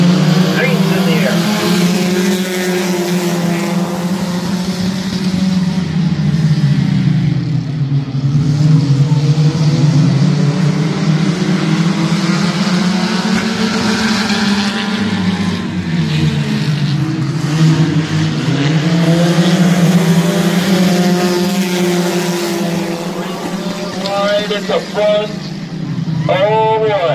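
Stock cars race at Midvale Speedway in a trophy stock feature, with loud, continuous engine roar that rises and falls as the pack laps the oval under green-flag conditions.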